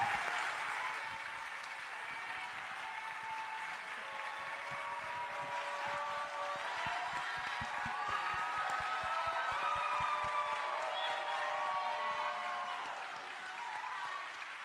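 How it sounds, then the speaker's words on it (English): A crowd at a political event applauding, standing as they clap, in a long sustained wash of clapping with some cheering voices mixed in, steady and fairly distant. "Can y'all help me give her a round of applause, please?"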